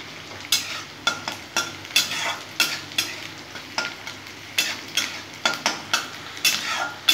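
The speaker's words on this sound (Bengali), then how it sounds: "এখানে কালো জিরা, রসুন আর কাঁচা লঙ্কা আছে। খুব সুন্দর করে ভেজে নেবো।" Black cumin, garlic and green chilli fry in hot oil while a spoon stirs in a steady rhythm of repeated scrapes, roughly two per second, over a constant sizzle, up close with no talking.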